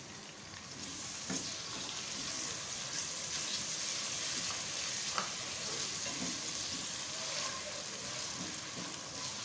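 Chopped tomatoes hit hot oil and spice masala in a pan while cooking chana dal, giving a steady, close sizzle and fry hiss that stays even for the whole stretch, with no one talking.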